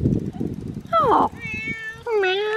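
A nearby cat lets out two or three drawn-out meows in quick succession, the last rising then falling, following a moment of low talking.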